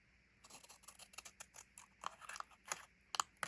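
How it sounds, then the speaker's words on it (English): Quick, irregular snips of scallop scissors cutting through paper, close by, with short crisp clicks coming in uneven bursts. "So I'm just going to cut this top part with my scallop scissors."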